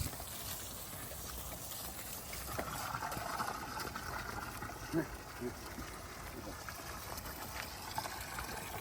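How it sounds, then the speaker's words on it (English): Water pours steadily into a trough made from half of a stainless steel keg in a homestead pig pen, a continuous close splashing wash with small clanks now and then. "Now we're just gonna water them, because pigs like water."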